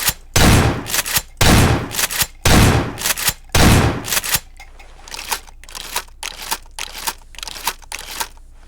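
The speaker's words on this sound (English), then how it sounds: "it's actually a shotgun and like meant to be used at close range" Shotgun blasts in Garry's Mod: four loud, booming shots at a steady rhythm, each with a crunchy tail, then a run of quieter, sharper clicks and pops.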